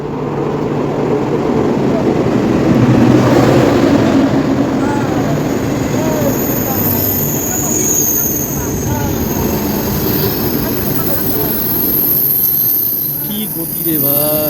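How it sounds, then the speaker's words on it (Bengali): A fast train arriving at and rushing past a station platform, a broad steady roar with rumbling rail noise holding loud and close for the whole stretch, a brief swell early on. "এই যে ট্রেনটা আসতেছে এটাতেই আমি যাব"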